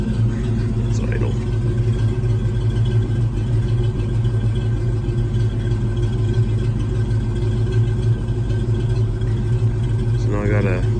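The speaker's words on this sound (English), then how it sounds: "Even when it's warmed up, it still idles just like this." A 1992 Ford Mustang LX with a 5.0 V8 idles steadily nearby, a continuous low rumble with an even tone throughout and a brief faint sound near the end.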